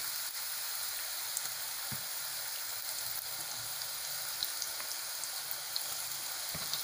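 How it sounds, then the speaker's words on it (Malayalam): Cut pieces of dough for a Malabar sweet snack fry in hot oil with a steady, even sizzle, close and moderate in volume, a few faint clinks breaking in and no talking. "എണ്ണയിലിട്ട് പൊരിക്കാം"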